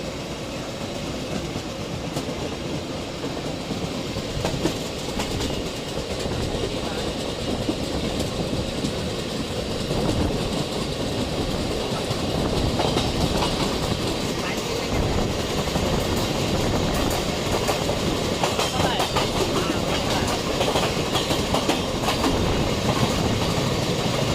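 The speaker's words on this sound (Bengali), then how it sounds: "একই রাস্তায় দুটো ট্রেন, আমরা যাব সোজা, আমাদের ট্রেন চলে যাবে অমৃতসরের উদ্দেশ্যে" The Howrah Amritsar Mail runs on the rails with a steady, loud rumble and rhythmic clickety-clack of the carriages, heard from on board and continuing throughout with no voices.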